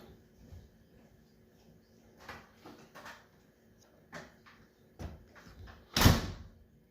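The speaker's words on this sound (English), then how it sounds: "forgive the door opening and closing" A household door opens and closes in a home kitchen, a few soft thumps and latch clicks spread over several seconds, ending with one louder slam, with faint background hum.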